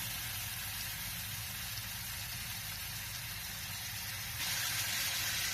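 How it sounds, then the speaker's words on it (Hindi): Cooking oil sizzles with mutton in a pot for a village-style aloo gosht: a steady, dense crackling hiss that runs throughout and gets louder toward the end, with no talk. "अब हम इसमें हाफ कप कुकिंग ऑयल डाल लेंगे।"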